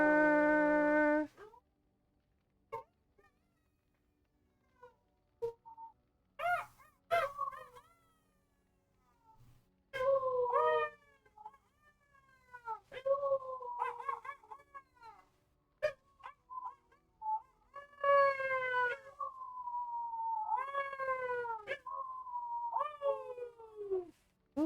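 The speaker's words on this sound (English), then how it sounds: "Happy kitty, sleepy kitty, purr, purr," A pet cat meows repeatedly at close range, a series of rising and falling calls with short pauses between them, some drawn out, with a voice singing softly at the start.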